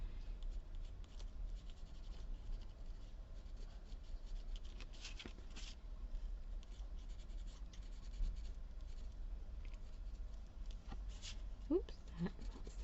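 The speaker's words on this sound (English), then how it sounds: "Just a little bit of my charcoal pencil." A charcoal pencil moves across paper in soft, close scratchy strokes, quiet and steady with a few brief taps.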